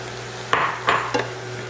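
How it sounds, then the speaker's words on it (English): Chopped cabbage for Cajun pork egg rolls cooks and wilts in a pan. Three short bursts of scraping and clattering stand out over a constant low background hum. "we're gonna cook this and allow this cabbage to wilt down"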